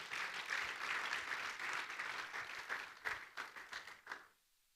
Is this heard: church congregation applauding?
yes